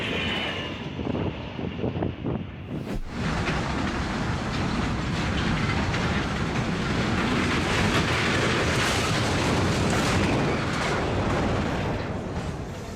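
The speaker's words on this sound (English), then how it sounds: "This old train's moving like it's got something to prove." An old train speeds along the track with a loud, dense roar and rattling rush that swells after a brief quieter opening and stays strong throughout.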